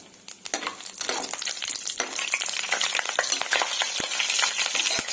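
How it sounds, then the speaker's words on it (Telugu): Whole spices frying in ghee, including cardamom, cinnamon, bay leaf, marathi moggu and stone flower, make a dense crackling sizzle. Sharp clicks and scrapes of stirring break through it, and no one speaks. "ఇలాచి, చెక్క, బిర్యానీ ఆకు, మరాఠీ మొగ్గ, కొంచెం రాతి పువ్వు, అవి ఇందులో వేసుకొని ఫ్రై చేసుకుంటున్నానండి"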